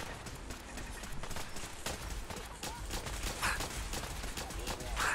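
Rapid bursts of Fallout 4 gunfire crackle across the clip, with repeated shots firing in quick succession over a busy background.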